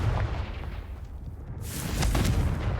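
Confringo spell explosion in Hogwarts Legacy: a booming blast that rumbles low, dips briefly, then swells again into a bright crackling burst with no speech.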